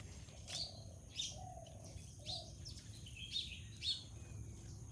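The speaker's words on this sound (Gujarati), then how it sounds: "ચકલી તો આવી બી ગઈ" House sparrows chirp in short, bright bursts, about five of them at irregular intervals, against quiet outdoor background hiss.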